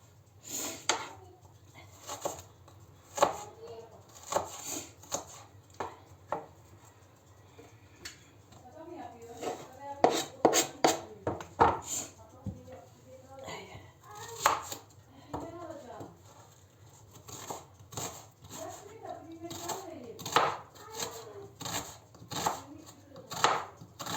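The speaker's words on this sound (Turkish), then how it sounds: "hepsini bu şekilde doğrayacağım." Repeated sharp knife chops on a cutting board in an uneven rhythm while preparing chicken kebab, with someone talking between strokes and a dog whimpering nearby.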